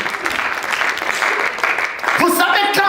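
Church congregation applauding, a steady dense clatter of many hands filling the room, with a voice speaking over it toward the end.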